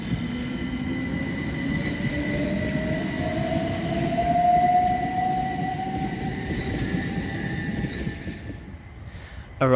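A Southern Railway class 377 electric train pulls into Havant station, its steady rumble and rising motor whine building to a near, loud pass before easing off, with no talk.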